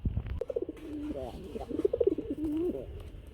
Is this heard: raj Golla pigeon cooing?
yes